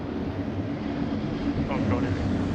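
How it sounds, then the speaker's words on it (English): A safety car engine pulls out onto the track during a Supercars race at Newcastle in the Assetto Corsa video game, a steady, harsh droning whine heard under ongoing talk. "that's the safety car going out"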